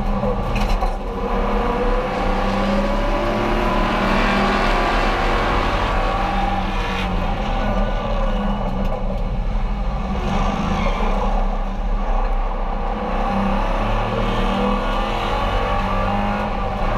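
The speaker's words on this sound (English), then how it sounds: "racing in American Iron here at Buttonwillow Raceway with NASA" Muscle cars race in the American Iron series at Buttonwillow Raceway, their big engines roaring loud and continuous with revs rising and falling as cars drive the track, with no talking.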